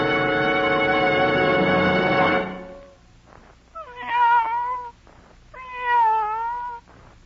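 A cat meows twice, clear and close, in a radio advert for Lee Super Deluxe tires, after a loud harmonic tone fades out.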